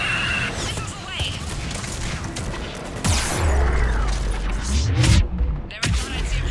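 Missiles firing in the Mass Effect 3 video game, heard during the Thessia mission: a rapid salvo of booming launches and explosions over constant battle noise, loud and dense, with heavy rumbling blasts near the middle.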